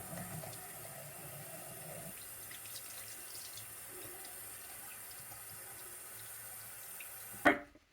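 A bathroom tap runs steadily as water rinses bleach out of hair, a continuous close hiss and splash that changes slightly partway through and ends with a brief knock as it stops.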